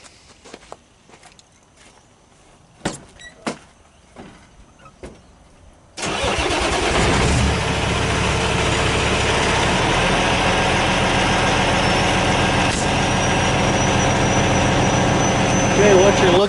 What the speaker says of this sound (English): Forgot to idle the truck.